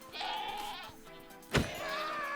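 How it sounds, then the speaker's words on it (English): A goat in the video game Minecraft lets out a drawn-out, wavering bleat, clear and fairly close, followed by a short sharp thump and then more bleating. "And we've got a goat."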